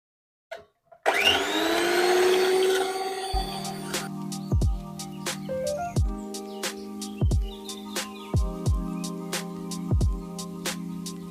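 An electric mixer whips cream for a butterscotch cake, a loud continuous whirring drone that starts abruptly, settles into a steady hum and is broken by repeated clattering knocks of beaters against the bowl.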